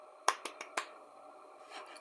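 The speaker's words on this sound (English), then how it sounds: "You get a golf clap, Cody." A few sparse, light claps, four quick dry pops in about half a second and then near silence, a deliberately unenthusiastic golf clap in a quiet room.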